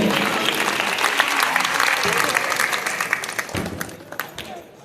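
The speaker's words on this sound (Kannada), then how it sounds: "ಎಲ್ಲರೂ ಜೋರಾಗಿ ಚಪ್ಪಾಳೆ ತಟ್ಟಿ." A crowd claps loudly at a Sangameshwara cradle ceremony in Kalakeri village. The dense, sustained applause has a few sharper individual claps and some voices mixed in, then thins out and fades over the last second.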